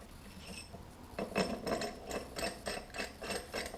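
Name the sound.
puller tool on DeLorean transmission input shaft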